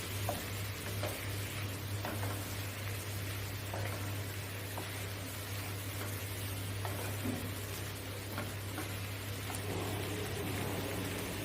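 Food being stirred and mixed in a pan for a Malayalam home-style dish, a steady close scraping and faint sizzle with occasional light ticks of a spoon against the pan, no talking over it.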